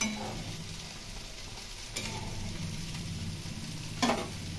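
Fish curry simmers on low heat with a soft, steady bubbling sizzle close by. A couple of brief scrapes from stirring break in, and a sharper clink comes near the end, with no voices.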